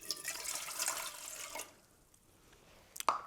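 Lukewarm water poured into a mixing bowl for 00 pizza dough, a steady close splashing pour lasting about a second and a half, then quiet, ending with a short sharp clink.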